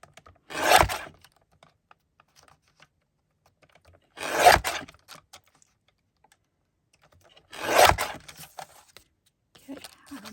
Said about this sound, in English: Now watch once I cut it in strips.